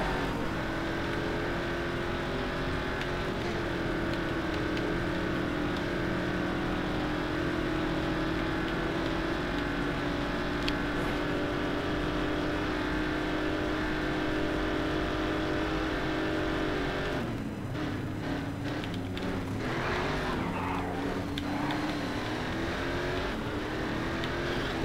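Race cars, including an Aston Martin, drive in an endurance race in the video game Race Driver Grid: a continuous loud engine drone and whine that holds for most of the stretch, then shifts pitch and briefly thins as the car changes gear late on.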